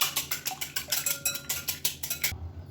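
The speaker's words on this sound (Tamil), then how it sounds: "இப்போ ஒரு முட்டையை வந்து உடச்சிட்டு சேர்த்துக்கலாம். இதையும் இப்போ நல்லா சேர்த்து அடிச்சுக்கலாம்." An egg being beaten into a wheat-flour mixture in a bowl, with a quick, regular run of about a dozen sharp whisk or spoon strokes clattering against the bowl, then abruptly stopping.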